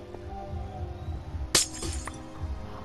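Glass blocks shattering in Minecraft: PlayStation 4 Edition: one sharp, loud crash near the middle, followed by a couple of fainter breaking clinks over low game ambience.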